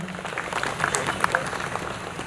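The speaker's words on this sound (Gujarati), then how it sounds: "આપણે સૌ જોરદાર તાળી પાડીને એમને વધાવીશું." A crowd at a community gathering in Surat claps to welcome a guest, a moderate round of applause mixed with voices and some murmuring, fairly close, for about two seconds.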